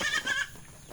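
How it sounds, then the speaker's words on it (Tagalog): A goat bleats once, close and fairly loud, with a newborn kid nearby, where copra is being split from coconut shells. "Kala niyo mga katambay, may bagong kambing na liwat."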